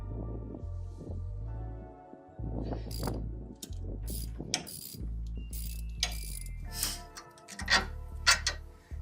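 Ratchet with an 18mm socket loosening the tie rod nut on a 2023 Chevrolet Silverado ZR2, heard up close as repeated bursts of sharp clicking pawl rattles with brief pauses between strokes, over a low steady hum.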